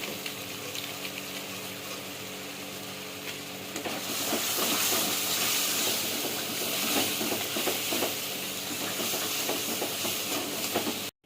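Kashmiri chili powder is stirred into frying aloo dum in a pan, giving a loud, steady sizzle and hiss that swells after about four seconds as the spoon scrapes through, with no talking.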